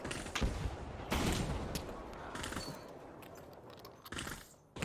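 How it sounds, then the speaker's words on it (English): Gunfire in the VR multiplayer shooter game Pavlov: several sharp bursts of shots, with strong hits near the start, around one second and around four seconds, separated by a lingering rumble and tail. "things like sniper rifles have a very nice ring to them"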